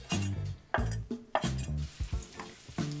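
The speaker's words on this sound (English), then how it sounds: "a little bit of olive oil in a couple of pans. In with the sausage" Sausage goes into olive oil in a couple of pans on a home stove, bringing a faint sizzle with quiet clinks and scrapes of utensils against the pans in short, irregular bursts.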